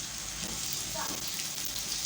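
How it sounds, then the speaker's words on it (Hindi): Onion rings frying in hot oil give a steady, dense sizzle that stays even and close for the whole moment, with no talking. "तो अब प्याज जो है ना वो फ्राई करने लगी हैं।"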